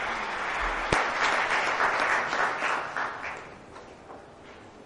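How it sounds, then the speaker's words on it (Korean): Applause fills a conference hall at a world strategy forum, sustained clapping from a large audience that swells early and then slowly thins toward the end. "큰 박수 부탁드립니다."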